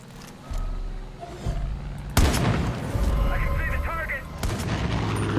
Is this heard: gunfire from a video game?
yes